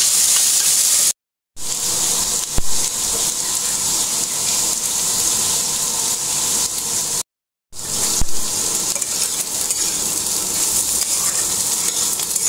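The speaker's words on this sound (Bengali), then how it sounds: "ধরে নাড়বো, নেড়ে ভাজবো।" Loud, steady frying sizzle from a pan of Malabar spinach fruits and potatoes, with a couple of brief spatula scrapes and two short breaks of silence; no one speaks.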